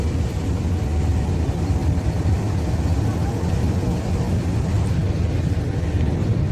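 A Pakistan Railways 2,000 horsepower diesel locomotive, GU204565, runs with a loud, steady low engine rumble that fills the whole stretch without letting up.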